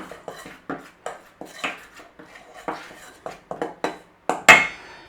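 A spoon stirs a dumpling mixture of flour, baking powder and salt in a bowl, giving a run of close, light scraping taps against the bowl, ending in a louder clack.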